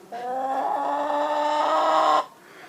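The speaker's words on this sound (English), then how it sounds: "Come on in, hens." A single drawn-out hen call, loud and close, rising and holding steady for about two seconds before stopping, with no talking.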